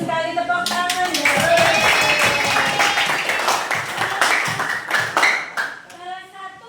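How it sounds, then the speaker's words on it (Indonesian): Students clap together in a classroom, a dense burst of handclaps running nearly the whole time and tapering off near the end, with children's voices chattering underneath. "Oke, bagus sekali, tepuk tangan ya."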